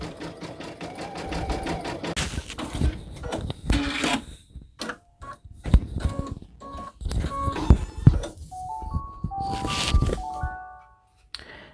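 Embroidery machine stitching a glittered iron-on patch, producing rapid rhythmic needle chatter, then clunks and a run of electronic beeps and tones, close and clear.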